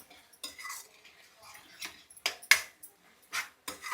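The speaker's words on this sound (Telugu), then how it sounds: "కారం వేసాను కదా, కలుపుతున్నాను." A spoon clinks and scrapes against a metal pot while chilli powder is stirred into a home-cooked curry, several soft, quiet strokes at close range without talk.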